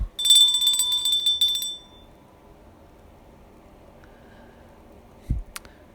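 A bright ringing bell rings several times in quick succession, loud and close, sounding for about two seconds and then falling to quiet, with a faint brief thump near the end.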